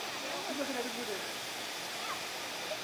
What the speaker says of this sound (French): Ça, c'est de la cascade quand même.